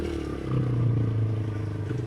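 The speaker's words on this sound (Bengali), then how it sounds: "বাইক দিয়ে ঘুরতেছি" A motorcycle rides along a village road with a low, steady engine drone that swells briefly, heard in a short stretch without talk.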